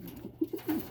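A pigeon that has come back after about a week missing coos in a few soft, low throaty notes close by, with no other sounds around.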